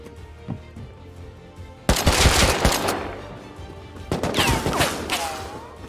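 AK rifle gunfire in a video game shooter, coming as two loud bursts of rapid automatic shots, the first from about two seconds and a shorter one near the end, with quieter game ambience between them.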